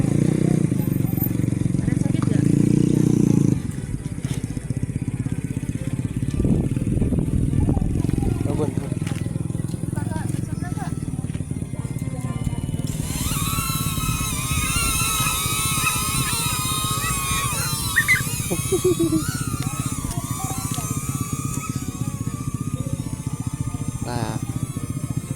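A DJI Neo drone takes off in strong wind, its thin high-pitched propeller whine rising over a constant rumble of wind, with people talking throughout.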